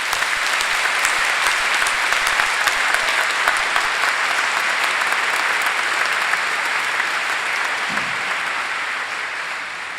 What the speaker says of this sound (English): I'd like you to give a round of applause to the city of Dundee.